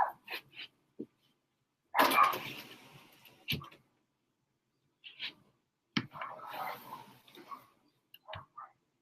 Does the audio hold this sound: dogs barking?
yes